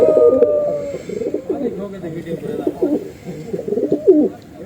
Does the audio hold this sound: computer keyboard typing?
no